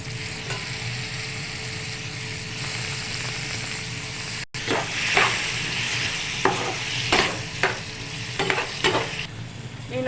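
Brinjal pieces frying with tomatoes in a pan, with a steady loud sizzle and repeated scraping strokes of a spoon stirring through them, no talk.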